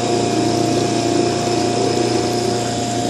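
A boat engine running at full throttle and burning some oil, a loud steady drone with a strong low hum and constant mechanical roar, holding evenly throughout with no talk.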